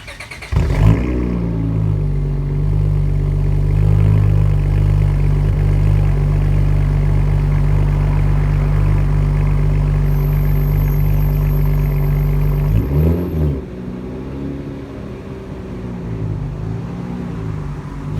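A 1997 Dodge Viper engine running at a steady, loud cold-start idle, a deep continuous rumble that wavers briefly near the end before settling to a slightly quieter idle.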